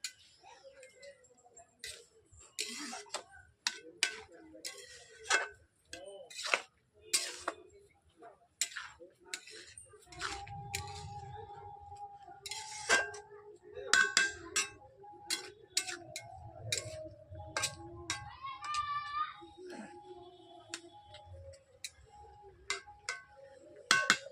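Spinach being stirred in a pan for latpoti, with a spoon or spatula giving steady, close ticking scrapes and taps against the metal and a light sizzle building underneath midway through.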